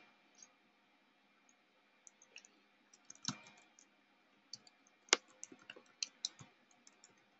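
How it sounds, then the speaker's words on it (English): Sparse computer mouse clicks, a few single taps and quick pairs, scattered over a quiet room background during sign-up for a Coinbase account; close and crisp, with no talking. "we just want to click sign up"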